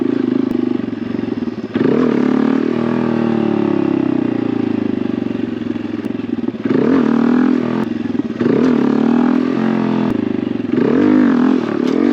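A Honda Grom motorcycle engine revs loudly up close during a wheelie attempt, rising and falling with the throttle, dropping briefly in pitch, then surging again in repeated bursts with some clattering toward the end.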